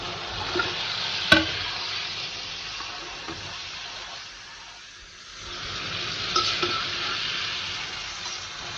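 Small fish and radish being stirred and fried in a pan, giving a steady broad sizzle with scraping strokes, one sharp clink near the start and a brief lull midway before the frying noise swells again.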